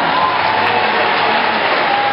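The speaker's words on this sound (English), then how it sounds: "Let's give them both a big round of applause." A crowd at a zoo dolphin show applauds, producing a steady, loud wash of clapping and crowd noise that holds evenly throughout the short moment.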